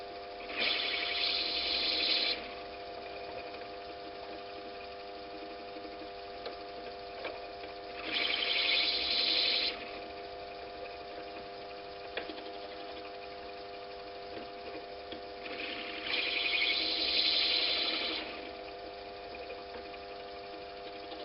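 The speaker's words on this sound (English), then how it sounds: "Turn the lathe back on again and carry on." A wood lathe trims a brass bullet-cartridge pen down to its brass tube. A steady motor hum runs throughout, broken by three distinct bursts of cutting noise a few seconds apart. It is fairly quiet overall, with no talking.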